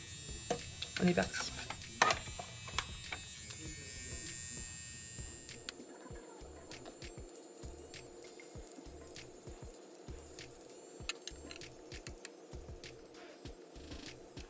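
A Pen Epil electric epilator runs on the moustache area, its steady close buzzing drone starting partway through and continuing to the end, with a voice talking over the opening moments.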